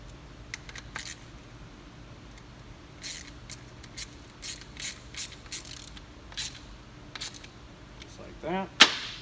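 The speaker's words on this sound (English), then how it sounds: "Same thing, we'll run the nut back down." A 1/4-20 nut run down a bolt during a V10 gasifier build gives scattered light metallic clicks and ratcheting ticks, close and fairly faint over a low hum, ending in a brief louder clatter.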